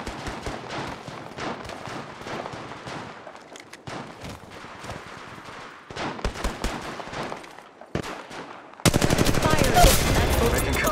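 Gunfire in the video game Apex Legends, rapid automatic bursts and single shots crackling in clusters, ending in a loud dense wash of sustained fire.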